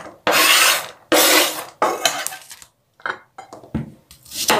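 Two onions being chopped on a board in a home kitchen: a few separate knife strokes, each a sharp scraping cut, then quicker, lighter taps, close and clear with no talk.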